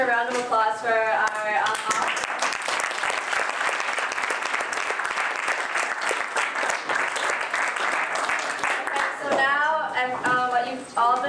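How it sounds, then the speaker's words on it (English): An audience at an entrepreneurship panel breaks into sustained, loud applause, dense clapping filling the room for several seconds, with a voice speaking briefly before and after the ovation. "I just want to give another round of applause for our"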